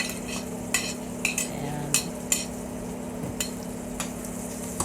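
Garlic sautéing in a pan for mung bean soup, with a soft steady sizzle under a low hum and a few sharp scrapes and clinks of the spatula against the pan; a voice speaks briefly.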